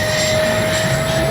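An E-flite Habu XS 80mm electric ducted-fan RC jet flies past with a steady, loud whine and a thin high-pitched tone. The sound holds even across the whole stretch.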